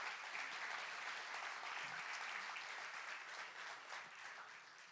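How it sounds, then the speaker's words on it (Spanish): A church congregation applauding together, a dense, steady wash of many hands clapping at a distance that tapers slightly toward the end. "Si usted lo cree, déle un aplauso fuerte al Señor."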